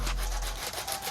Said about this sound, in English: So we can just take some 40 grit and take it to the edge of this thing.